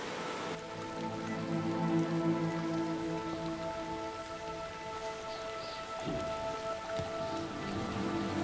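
Steady rain pours down during a storm in the Great Smoky Mountains National Park, a dense, even hiss of drops on surfaces that continues throughout without pause.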